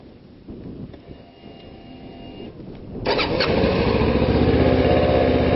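A stock-exhaust motorcycle engine idles low and steady, then after about three seconds opens up into a louder, sustained running roar as the bike rides off, close by and with no talking.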